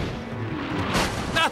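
A battery of cannons fires in a battle at Fort Henry: a heavy, close boom rolls out, followed by a sharp cracking report near the end, with shouting voices mixed in.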